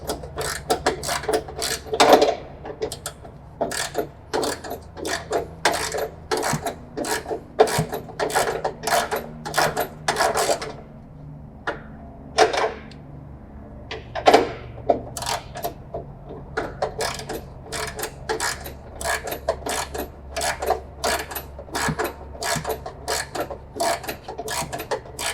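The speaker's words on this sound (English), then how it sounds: "we'll go ahead and start ratcheting this up and making that adjustment" Ratchet with a 3/8-inch drive and 15 mm socket adjusting a John Deere E100 mower deck, a fast run of close clicking strokes with a brief pause midway, steady low background hum beneath.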